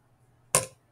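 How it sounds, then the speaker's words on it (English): A short red plastic boomwhacker tube is whacked once, giving a single sharp, hollow knock close by that fades quickly into near silence. "here's a really short red boomwhacker"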